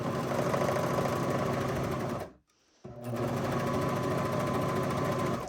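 A sewing machine stitches the shoulder seam of a T-shirt in a fast, even mechanical whir, stopping briefly for about half a second before running on steadily, close and loud.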